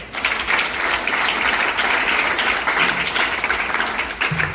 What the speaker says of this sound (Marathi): त्यांच्यासाठी टाळ्या झाल्या पाहिजे